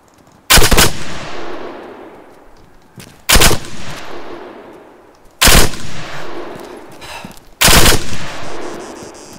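Four loud, close gunshot bursts in the Arma 3 video game, each a sharp crack trailing into a long fading echo, spaced a couple of seconds apart with nothing else heard.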